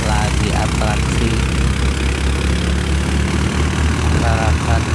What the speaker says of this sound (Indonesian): sekarang sudah memakai mesin yang disebut stok atau mesin perontok